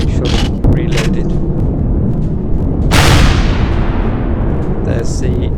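Heavy weapons fire in the space survival game Empyrion Galactic Survival: a few sharp bursts early, then a loud boom with a long fading tail, over a constant rumbling background.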